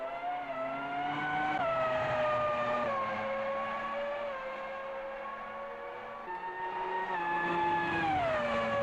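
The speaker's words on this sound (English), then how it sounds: "I could listen to these cars all day, and I would not get bored of that sound." Formula race car engines in a sim racing video game scream loudly and continuously, pitch rising and dropping through gear shifts, with no voices.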